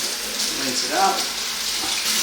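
Tap water runs steadily into a sink while rinsing out the cavity of a gutted pheasant, a soft continuous splash for about two seconds.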